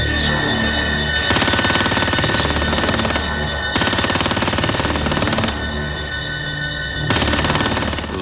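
Rapid bursts of gunfire from a firing squad executing prisoners, sustained volleys starting and stopping in several blocks, loud and dense with a steady tonal hum beneath.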